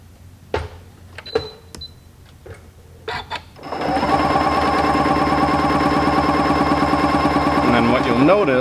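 A Janome M7 sewing machine stitching a quilt block: a few soft clicks and taps first, then a loud, steady motor whir with rapid needle rhythm running continuously to the end.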